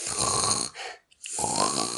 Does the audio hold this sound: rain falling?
no